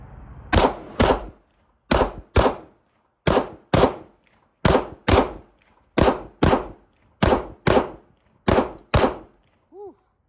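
A Smith & Wesson M&P 2.0 handgun fires a steady run of sharp, loud shots, mostly in quick pairs, about a dozen bursts spaced evenly. The shots are close and ring out clearly against a quiet background.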